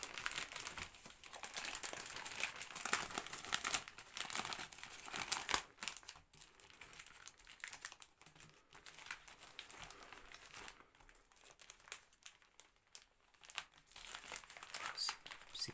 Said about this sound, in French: Donc on va finir cette ouverture avec l'ouverture de 2 kits de collection style de combat.